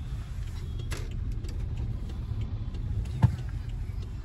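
Steady low road and engine rumble inside a BMW sport car driving through congested traffic, with a single sharp click near the end.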